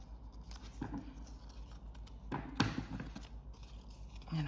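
Scissors snip through card stock while a tiered wiper card with flower accents is made, with a few quiet, separate cuts over a low steady background hum.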